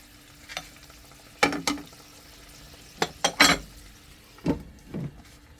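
Meat stirred in a frying pan as its fat begins to render, with several distinct scraping, sizzling bursts in irregular rhythm over a faint steady hum, close and fairly loud, no talking.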